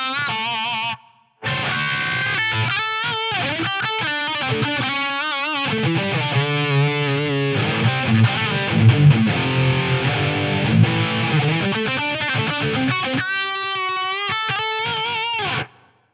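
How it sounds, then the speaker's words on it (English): Electric guitar played with distortion and reverb through a TC Electronic G-Force effects unit, a sustained gritty, chord-heavy passage with a short gap near the start and a clean cutoff at the end. "Let's hear that with some distortion."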